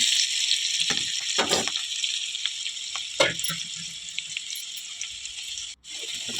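Onions, curry leaves and turmeric sizzle steadily in hot oil with occasional stirring scrapes, a continuous bright frying hiss throughout.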